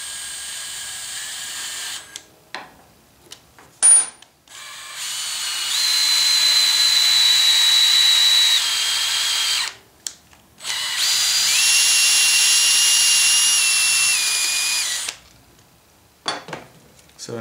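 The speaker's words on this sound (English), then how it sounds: "this will cut those, cut that goop of the thread lock off of here in just a second." A thread chasing tool cleans dried thread-locker goop off a small bolt's threads, giving two long, steady, high-pitched whirring runs with metallic scraping, separated by brief pauses and small clicks, close up and with no voices.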